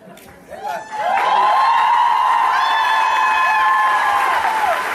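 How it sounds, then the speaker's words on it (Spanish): An audience at a plaque unveiling for a singer in the Sala del Rey breaks into loud, sustained applause with cheers and whoops, swelling after a quieter first second. "Necesita esos aplausos"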